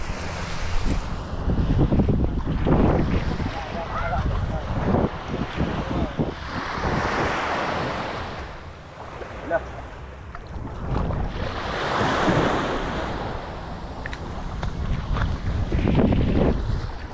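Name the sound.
fishing boat arriving at sea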